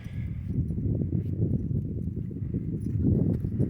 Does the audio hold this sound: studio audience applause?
no